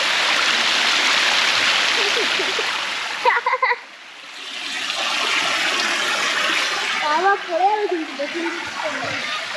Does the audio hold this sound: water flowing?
yes